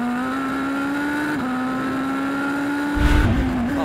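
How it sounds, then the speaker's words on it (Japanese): Super Formula open-wheel race cars at Suzuka during a 2023 race, one overtaking another, give a loud, sustained high engine whine that shifts pitch slightly, with a burst of rougher roar near the end as a second car comes close. "さあ野尻がどうするか、ここでインに入っていきます"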